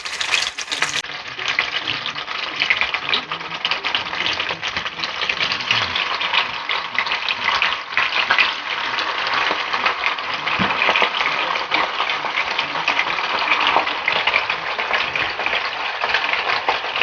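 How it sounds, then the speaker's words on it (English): Fish frying in hot oil: a steady, dense sizzle with crackling and popping that holds loud and close throughout, with no talking. "I'll let the oil heat up and put my fish in it"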